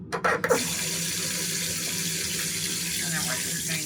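Water from a tap runs steadily into a sink while clothes are washed, a constant splashing stream after a few short clattering knocks at the start.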